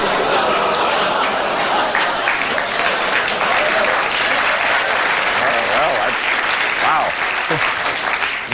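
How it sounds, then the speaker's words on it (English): A television talk-show studio audience sustains thick, loud applause throughout, a steady wash of many hands with voices mixed in. "booing going into applause"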